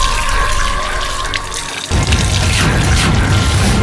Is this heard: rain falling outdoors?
no